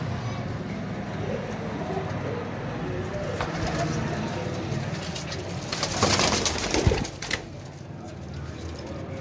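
Kasuri pigeons coo in soft, repeated low calls close by, with bursts of fluttering and someone speaking in between.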